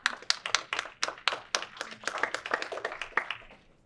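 Hands clapping at a community workshop on insurance proceeds after a wildfire, a small audience giving a brief round of applause, the claps distinct and close, rising into a denser patter before fading out.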